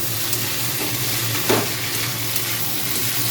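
Salt, turmeric, chili, cumin and coriander powders sauté in a hot pan, producing a loud, steady sizzle with a brief stirring scrape in the middle and no talking.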